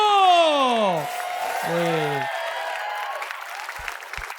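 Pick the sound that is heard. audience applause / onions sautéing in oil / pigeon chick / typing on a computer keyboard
audience applause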